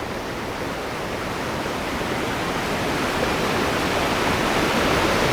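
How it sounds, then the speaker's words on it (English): A waterfall in Grand Teton National Park, Wyoming, just below the main falls where the flow splits into two streams. It gives a loud, constant broadband rushing roar that swells slightly over time, with no talking. "just below the main part of the falls where it splits into two different streams"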